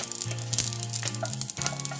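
Spices sizzle and crackle in hot oil, lightly roasting for grinding into chicken pickle, with a low steady hum and occasional stirring clinks over the short stretch.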